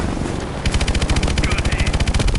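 Rapid video-game machine-gun fire rattles in a fast, even burst, loud and close, following a brief moment of noisy combat ambience.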